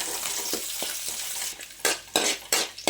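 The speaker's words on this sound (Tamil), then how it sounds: "சேர்த்து நம்ம வதக்கிக்கலாம்." Steady sizzling of ginger, garlic and green chili sautéing in a pan, with several distinct scraping strokes of a spatula, growing more frequent toward the end.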